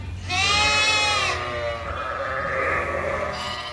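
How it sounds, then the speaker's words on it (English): Sheep, ewes with their lambs, bleat in a barn: one loud, wavering bleat rings out close by, followed by softer overlapping calls from the flock. "So this is the second coverall that is full now with ewes and lambs"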